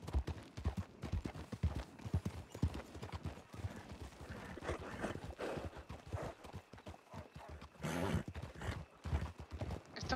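Horse hooves clip-clop steadily in a rhythmic gait while the horse is ridden in the Red Dead roleplay video game. The hoofbeats are close and continuous, with soft voices faintly underneath.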